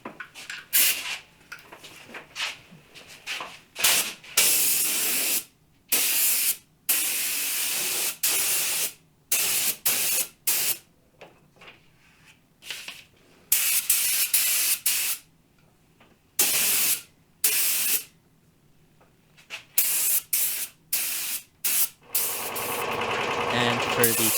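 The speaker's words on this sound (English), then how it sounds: "I am going to spray 2 coats of white." Repeated bursts of hissing spray paint, each lasting a few seconds with brief pauses between, close and loud, with occasional voice in the background.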